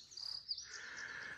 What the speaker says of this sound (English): Let you listen to the sound of the birds